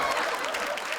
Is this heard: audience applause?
yes